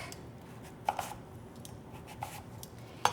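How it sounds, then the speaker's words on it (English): A knife chopping potatoes on a cutting board for peri peri roasted vegetables, giving a few sparse, quiet thuds spread out over a faint background hiss. "start chopping just the ends, because those are kind of small"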